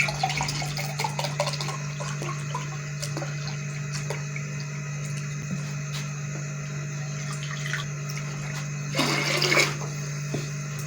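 More water poured into a cooking pot for chicken biryani: a sustained trickle and splash over a steady low hum, with a louder gush near the end.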